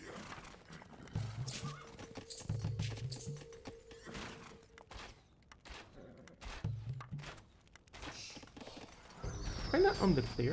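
Hooves clip-clop and horses neigh for Carthaginian horse archers in the real-time strategy game Age of Empires: Definitive Edition, a battle-of-Zama campaign scene; someone talks over the repeated game effects throughout.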